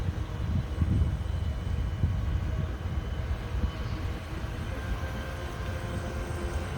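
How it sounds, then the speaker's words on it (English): A small drone flies over water near a cement wall, giving off a steady, continuous motor hum with a low rumbling background that stays even in loudness throughout. "If you're trying the drone out, this one's working good, the drone."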